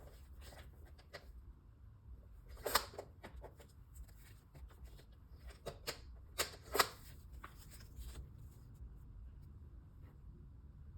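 Scissors snip through sticker paper for a journal, with quiet close paper rustles and a few sharper crisp cuts against a low background hum; no talking.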